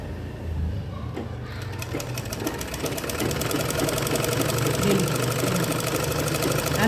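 After a short quiet start, a sewing machine begins stitching along a dress neckline and keeps up a steady, close mechanical whir to the end.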